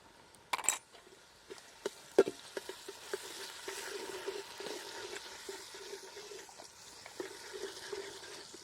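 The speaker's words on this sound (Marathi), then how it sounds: "कांदा आणि अद्रक लसूण आहे ना छान परतून घ्यायचं" Onion with ginger-garlic paste sautés for pav bhaji over a wood-fired stove, first some sharp clinks and clatters of a spoon against the pot, then a faint, steady sizzle with light stirring ticks.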